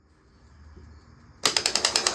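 Starter solenoid on a Dodge W350 with a 12-valve engine, seized and flooded after long storage, clicks sharply: after a quiet lead-in, a rapid run of about seven evenly spaced loud mechanical clicks near the end, with no talking.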